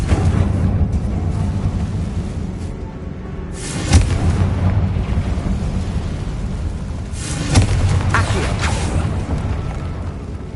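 Confringo explosion spells in the Hogwarts Legacy video game: two booming blasts a few seconds apart, each a sharp hit with a rumbling tail, over a dense low game rumble.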